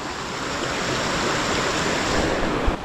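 A babbling stream flows through a monsoon forest in the Konkan, a dense, steady rush of water that stays close and loud for the whole stretch, with no voices.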